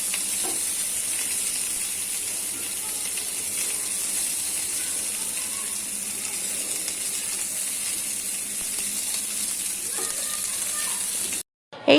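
Frozen fish frying in a pan, a continuous close hiss and sizzle that stays even for the whole stretch before cutting off abruptly at the end.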